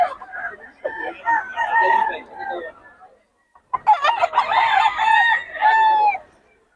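Roosters at a fowl market in Bocaue give two loud, close bouts of crowing and clucking, separated by a short silence.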